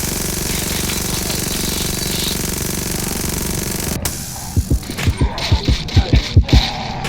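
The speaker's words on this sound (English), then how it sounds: "Minigun." A minigun fires in the Audio Defense video game, a loud, dense continuous roar for about four seconds that then breaks into a series of separate heavy thumps.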